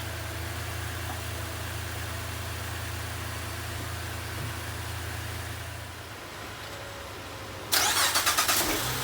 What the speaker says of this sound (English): I'm going to jump in and start the truck.